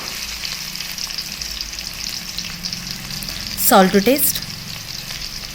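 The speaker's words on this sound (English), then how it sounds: "Now heat 2 tablespoons of oil in a pan. Once it's hot, add 1 large size chopped onions" Chopped onions hitting hot oil in a pan for a pumpkin curry, a sudden loud sizzle that flares briefly over a steady low background hiss, with quiet talk nearby.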